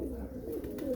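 Pigeons coo softly in a loft, a low steady murmur of several birds running through the whole second with a faint voice in the background.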